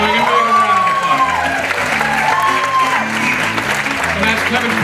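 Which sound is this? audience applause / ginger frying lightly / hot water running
audience applause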